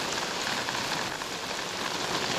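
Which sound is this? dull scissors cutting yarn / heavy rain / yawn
heavy rain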